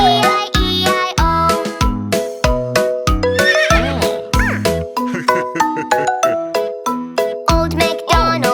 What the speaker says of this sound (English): he had a horse, E-I-E-I-O. With a neigh-neigh here and a neigh-neigh there